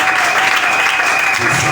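A church audience breaks into loud, steady applause after a scripture reading, with dense, even clapping throughout.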